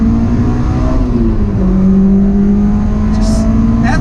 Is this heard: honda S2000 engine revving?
yes